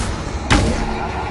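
A single sharp blast from the Confringo spell in a Hogwarts video game cracks out loud and close, then a short rumbling decay over a steady background.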